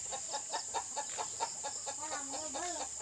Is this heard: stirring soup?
no